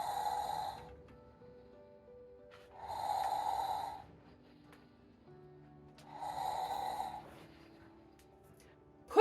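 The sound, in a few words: snoring sound, a dump truck's engine slowing to snores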